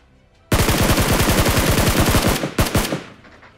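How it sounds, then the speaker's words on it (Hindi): Loud bursts of automatic gunfire from behind in BGMI, with a rapid machine-gun stream of close, sharp shots running for about two seconds, then a brief pause and a few more quick cracks before it tails off. "अब अचानक से हमें पीछे से फायर देखने को मिलता है"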